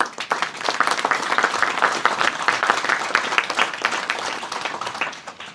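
Sustained applause from an audience at a health centre inauguration in La Tour d'Auvergne, dense steady clapping lasting the whole stretch without any talk over it.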